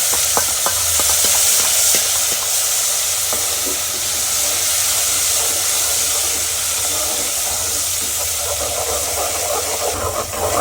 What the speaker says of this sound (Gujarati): ટમેટાની ક્યુરી આપણે એડ કરી નાખી છે, અને પેલા સાતડી લઈએ સરસ મજાનું